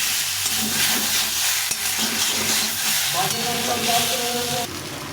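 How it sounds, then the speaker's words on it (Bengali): Ground tomato paste fries with potatoes in a pan, giving a loud, continuous sizzle and hiss. Stirring scrapes run through it, and a brief tonal whine comes in near the end. "টমেটোটা বেটে রেখেছিলাম এটা দিয়ে একটু ভালো করে এইভাবে"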